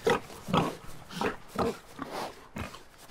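A boar in the survival game Hurtworld gives a run of close, rough grunts and snorts in quick succession, fairly loud and repeated about every half second.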